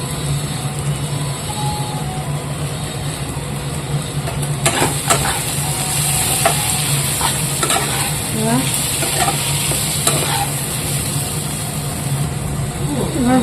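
Chicken with ground coriander and cumin sizzles in a pan while a utensil scrapes and stirs in bursts, a loud continuous frying hiss with clattering strokes and no voices.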